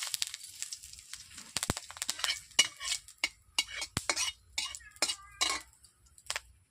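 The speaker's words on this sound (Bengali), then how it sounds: "এরপর দিয়ে দিচ্ছি দুটো শুকনো লঙ্কা" Two dried red chillies dropped into hot oil in a pan, with a light sizzle under a run of sharp clinks and scraping taps from a utensil against the pan.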